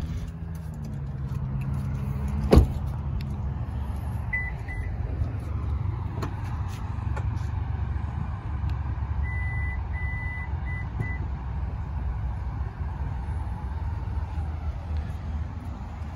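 A Subaru Ascent power tailgate moving with a low motor hum, a sharp click, and short bursts of high warning beeps in two groups over steady background noise.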